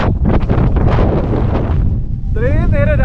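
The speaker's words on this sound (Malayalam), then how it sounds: "ഈ കാറ്റ് കാരണം ഞാൻ ഈ പറയുന്നത് കേൾക്കുന്നുണ്ടോ എന്ന് പോലും എനിക്കറിയില്ല." Strong wind buffets the microphone on a boat at Munnar, a loud continuous roar and rumble running throughout, with a brief lull near the end and a person talking over it.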